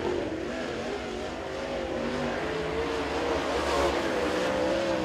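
A super late model race car laps Crossville Speedway during qualifying, its engine a steady, sustained roar rising slightly in pitch as it comes off the corner, heard from trackside with constant broad noise.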